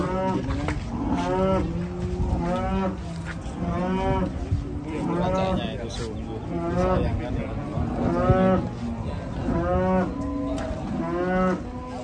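A jumbo cow at a livestock market, once weighing a ton, lets out loud, drawn-out moos again and again, close by and fairly regular across the whole stretch.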